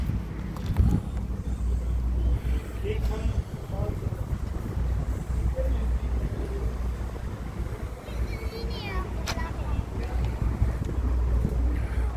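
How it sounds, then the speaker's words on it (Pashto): A boat pulls in at the harbour of Sabang island, Indonesia, its steady engine rumble wrapped in constant wind and sea noise, with occasional faint voices in the background. "کښتۍ دا د راغلله اوس په دغه کښتۍ کې بیرته ځو"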